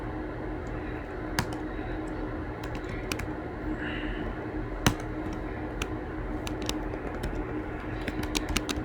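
Steady computer keyboard typing while building a React todo app, with sharp clustered key clicks and occasional louder keystrokes, close and fairly quiet, with no talking.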